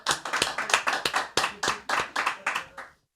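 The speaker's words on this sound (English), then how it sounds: "Give him a round of applause." A round of applause from a small group: about a dozen sharp hand claps in a steady rhythm, loud and close, then stopping abruptly after about three seconds.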